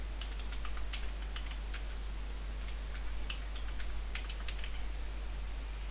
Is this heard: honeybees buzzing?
no